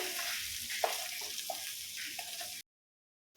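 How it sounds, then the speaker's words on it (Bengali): Marinated crabs fry in hot mustard oil in a wok, giving a steady broadband sizzle with a few small pops and spatters, fairly close, before cutting off abruptly near the end. "একটু লাল লাল করে কড়াইতে ভেজে নেব কাঁকড়াগুলোকে।"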